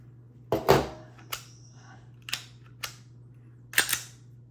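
Glock 43X and Glock 19 Gen5 pistols fired in several sharp, close reports at irregular intervals, some in quick pairs, over a low steady hum.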